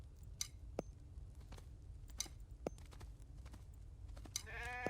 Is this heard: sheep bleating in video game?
yes